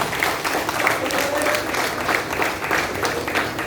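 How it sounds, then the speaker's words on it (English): An audience at a school Founders' Day celebration applauds, steady dense clapping filling the whole stretch at an even, fairly loud level. "Give them a big round of applause."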